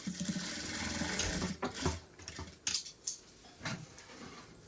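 A sewing machine stitches a buttonhole into a blouse: faint, uneven bursts of whirring and clatter in short separate runs, with pauses between them.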